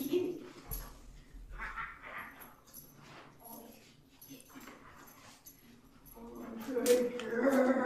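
Excited dogs on a play break during a positive-reinforcement training session whimper, yip and bark close by in bursts, with someone speaking warmly over them.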